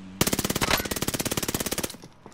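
A rapid burst of automatic gunfire from a weapon in Call of Duty Plunder, about two dozen evenly spaced shots in under two seconds, loud and close, then a quick fade.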